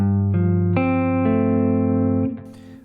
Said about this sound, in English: I'm going to play F over G